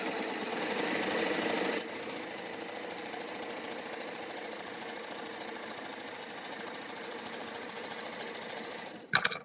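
A serger running a 3-thread overlock stitch hums and clatters in a steady rapid whir, slightly louder at the start, then ends with a few sharp clicks as it stops.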